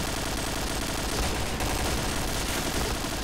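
Rapid gunfire from a Counter-Strike-style shooter video game rattles continuously and loudly throughout, dense bursts layered over constant game noise with no clear pauses.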